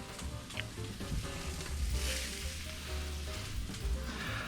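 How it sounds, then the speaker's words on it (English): Onions hit a hot pan and sizzle loudly, a dense close frying hiss with stirring scrapes throughout, no talk. "Let's add in our onions."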